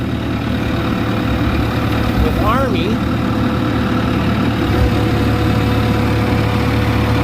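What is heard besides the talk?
tractor engine idling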